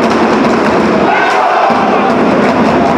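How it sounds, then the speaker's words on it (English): A boxing crowd at a professional fight roars and urges on a boxer, a dense, loud wall of cheering with a thud partway through and a commentator talking over it. "Upton crowd spurring him on."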